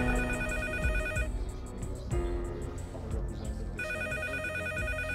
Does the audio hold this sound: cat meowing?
no